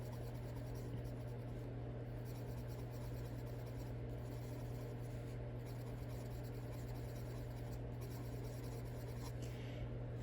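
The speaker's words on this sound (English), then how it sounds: "They kind of squeak on this paper" Soft, steady colored pencil strokes scrape and squeak faintly across paper, continuous and close, over a low constant hum with no talking.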